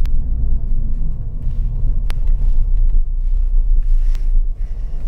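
Fiat Egea 1.6 Multijet diesel with DCT6 automatic gearbox pulls uphill under full throttle, heard from inside as a loud, constant low engine and road rumble with faint wind noise and a couple of brief clicks.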